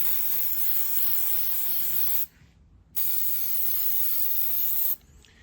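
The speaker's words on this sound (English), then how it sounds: "my next step is to spray them" Steady loud hiss of an aerosol spray can of lube wax coating .223 Remington cartridge cases in two long bursts, separated by a brief pause, close up with no talking.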